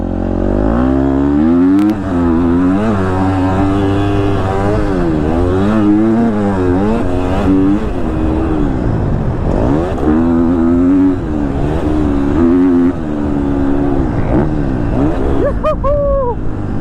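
A 2022 KTM 250 SXF four-stroke dirt bike ridden hard, its engine loud and close as it revs up and down in a continuous wavering rise and fall through the gears, without speech.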